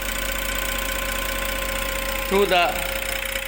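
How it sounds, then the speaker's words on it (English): Electric motor in a lab test rig, loaded by an electromagnetic brake, giving a steady hum with a low constant drone throughout, while someone speaks briefly over it near the end. "we want to load this motor and draw the characteristic curves, show the loading of motor"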